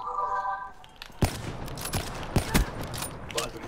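Gunfire during a one-on-one video game match, a string of sharp, irregular shots of varying loudness, with faint talk at the start.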